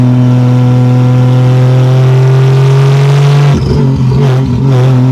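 Turbocharged 2JZ-GE engine swapped into a 1987 Toyota Supra, revving hard under boost with a loud, steady sustained drone that wavers and surges near the end, close up and with no talk.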